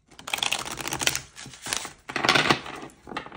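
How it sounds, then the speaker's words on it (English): Tarot cards shuffled by hand during a love reading, a close, continuous run of rapid papery riffling and clicking in two main bursts with a brief pause between. "One more shuffle."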